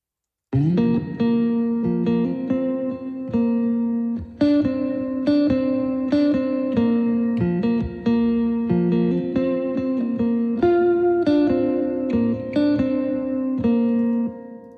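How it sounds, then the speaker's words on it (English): Lead guitar plays the main part of a song, a continuous, melodic line with effects and reverb that runs steadily throughout, alone and without voices. "And then the lead guitar, there's 3 elements to the lead guitar."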